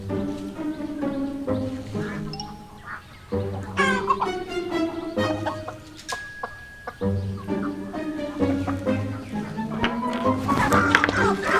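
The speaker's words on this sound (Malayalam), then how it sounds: "ഇവിടെ കുറെ കോഴി ഉണ്ടല്ലോ ഡാഡി" Several chickens cluck and call around a yard. Their rising, repeated cries carry on and off throughout, with voices and other background sounds mixed among them.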